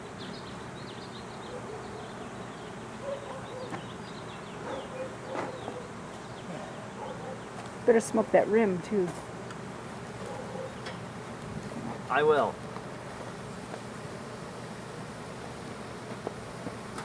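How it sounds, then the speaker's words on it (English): Honeybees buzzing around an open hive during an inspection, a faint continuous drone under occasional nearby speech from the beekeeper. "Got bees on me."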